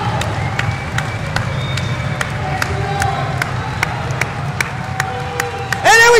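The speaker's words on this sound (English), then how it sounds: "Yes, the crowd is starting to get up there." A wrestling match crowd in an arena roars continuously, swelling in loudness with cheering and scattered clapping, dense and sustained, with a sharp burst right at the end.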